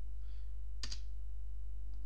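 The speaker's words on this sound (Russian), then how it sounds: "вы нажимаете на клавиатуре Enter" A single Enter key is pressed on a computer keyboard, one brief click that stands out over a constant low electrical hum.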